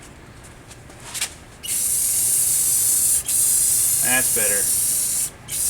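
Gloss coat sprayed onto an arcade cabinet in long, loud, close hissing bursts from a spray can, with short pauses between passes, and a brief spoken comment partway through.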